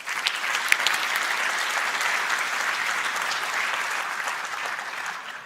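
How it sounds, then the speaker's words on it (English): Sustained, even applause from a large conference audience at a national space conference opening session fills the hall, dense clapping with no voices, holding steady throughout before easing slightly at the end. "Another round of applause."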